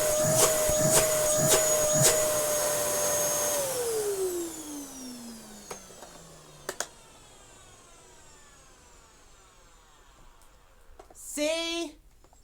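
A Dyson DC07 vacuum cleaner whines steadily at first. A few clicks follow, then the motor is switched off and its pitch falls away as it spins down. A short voice comes in near the end.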